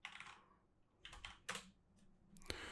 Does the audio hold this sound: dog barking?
no